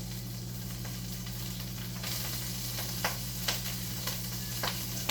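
Cooked rice hitting hot oil in a pan for fried rice, a steady close sizzle with small scattered pops and scraping ticks from stirring.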